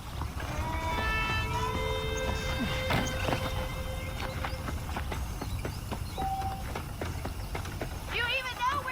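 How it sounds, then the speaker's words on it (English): Saddled horses in the Red Dead Redemption video game clip-clop in a steady, moderately close rhythm of hoofbeats, with voices speaking over the trotting. "The horses are saddled up over here"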